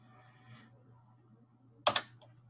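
Typing on a computer keyboard during data entry in an MS Access database: a faint tap, then a single loud, crisp key press, close by over a low steady hum.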